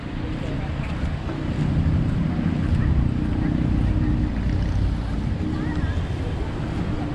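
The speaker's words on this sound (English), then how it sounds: "Okay, I'll shut up and show you some of the beach." Waves and surf roll onto a beach at Nha Trang, a continuous washing rush mixed with heavy wind buffeting the microphone, steady and fairly loud throughout.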